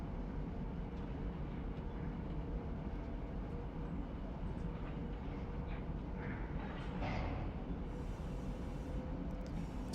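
Two GE locomotives rolling past in the Run8 train simulator on the Seligman and Needles line, a steady low rumbling drone with faint shifting mechanical tones, moderately distant and without talk.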